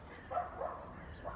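Village dogs bark faintly in the distance, a few short yaps in quick succession against a quiet rural background where goats are also kept.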